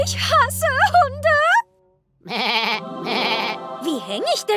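A cartoon dog in a German episode of the Gummibär animated show gives a few wavering, goat-like bleats, close and clear, alternating with brief spoken lines and a short silent gap.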